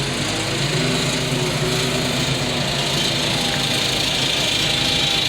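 A loader's engine runs steadily at a car crusher yard, giving a continuous, close mechanical drone with some rattling and no voices over it.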